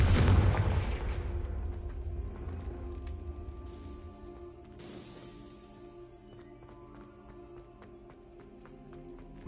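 A Confringo fire spell explodes in Hogwarts Legacy: one loud, close blast with a rumbling burst that decays over a couple of seconds, followed by quieter scattered crackles and clicks.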